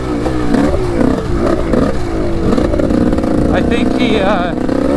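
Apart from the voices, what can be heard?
motorcycle engine running with a new top end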